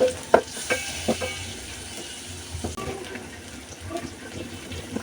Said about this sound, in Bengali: পেঁয়াজগুলোর সাথে মশলাগুলো এভাবে একটু কষানোর পর দিয়ে দিব আমি এখন চিংড়ি মাছ